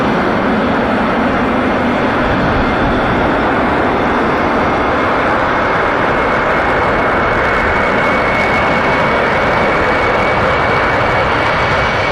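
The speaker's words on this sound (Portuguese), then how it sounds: "atenuar o enorme ruído dos 4 JT5 que, sem os kits, podiam chegar na casa dos 120 decibéis durante a decolagem" Steady, loud, continuous roar of a four-engine jet cargo aircraft with JT3D-type engines, a dense engine drone with no talking.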